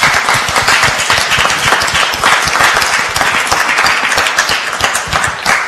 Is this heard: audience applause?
yes